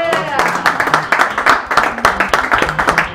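An audience at The Cellar claps in a scattered, uneven rhythm of sharp hand claps, fairly close and loud, with voices talking over it throughout.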